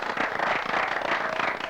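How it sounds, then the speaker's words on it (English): Audience applause at a 1991 Challenge Bowl quiz competition, a steady dense patter of clapping filling the whole short moment with no pauses. "Let's have a round of applause."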